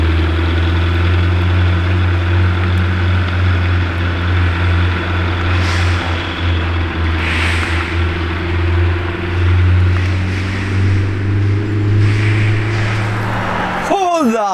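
A Lamborghini Temerario supercar idles nearby with a steady low engine drone and faint vibration, while a few brief background sounds pass over it.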